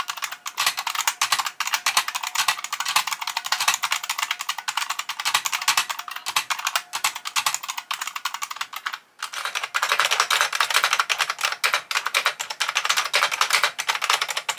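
Fast, continuous typing first on a homebrew IBM Model M keyboard and then on an IBM Wheelwriter keyboard: dense, loud, clacky keystrokes with a brief pause near the middle where one keyboard gives way to the other, and a short murmur from a voice.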